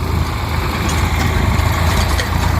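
Tractor that hauls a field stone-picking machine's collected load to a trolley drives off, its diesel engine loud and close with a continuous throbbing low drone and no talking.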